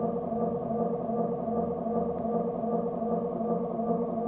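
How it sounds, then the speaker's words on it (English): A delay and reverb effect feeding back on itself, a dense sustained drone of layered tones holding steady and even throughout, with no voices. "that's just the reverb feeding back on itself at this point"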